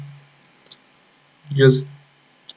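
Computer mouse clicks while working in 3ds Max: two sharp, faint clicks about two seconds apart, with a short vocal sound between them.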